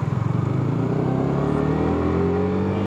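A Yamaha R15 motorcycle revs on a road, its engine note climbing steadily in pitch as it accelerates, loud and close with wind rush, no talk.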